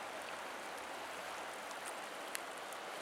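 Steady rushing flow of a river in Tuolumne Meadows, Yosemite, a soft even wash of water continuing unbroken with one faint brief click, no voices.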